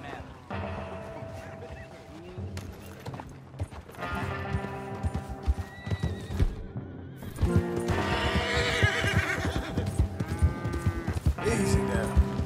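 A horse whinnies and neighs amid Red Dead Redemption 2 game sound effects and music, with clip-clopping hooves and other busy background noise throughout.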